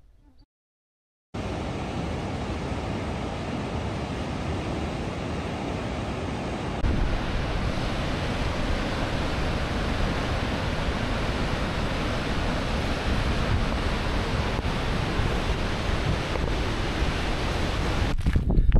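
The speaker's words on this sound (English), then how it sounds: "So that was the waterfall." Steady, dense roar of rushing water at Augrabies Falls that begins abruptly after a moment of quiet and continues loud and unbroken, with some wind noise.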